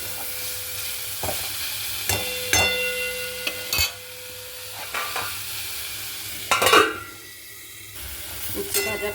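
Bitter gourd slices frying in a home kitchen pan, with a steady soft sizzle and intermittent scraping stirs and clatter of a spatula, close up and with no talking.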